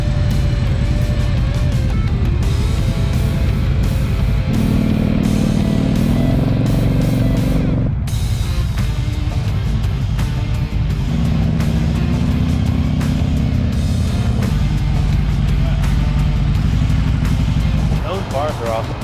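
An Indian motorcycle with aftermarket bars ridden on the road, its engine rumbling loud and close, rising and falling through gear changes over nearly twenty seconds.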